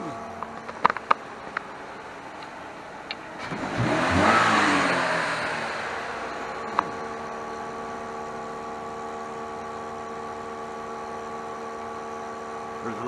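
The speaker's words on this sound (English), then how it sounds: "if I was to snap the throttle, pump a little bit of fuel in" A car engine's throttle is snapped open during a gas emissions test, a quick rev rising and fading over a couple of seconds, followed by a steady idle hum with a few clicks at the start.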